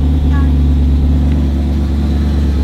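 A BMW E92 M3 engine runs at around 6,000 RPM, giving a loud, steady, close mechanical drone with a constant low hum and no clear rise or fall.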